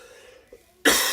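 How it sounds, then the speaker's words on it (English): A faint murmur, then one loud, harsh cough bursts out close by at the end. "Cough killing me."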